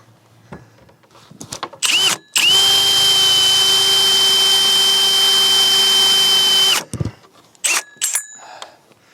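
A power drill with a dull pilot bit bores a hole through a door, a loud sustained whine with a steady high tone lasting about four and a half seconds, framed by brief bursts, clicks and handling noise before and after.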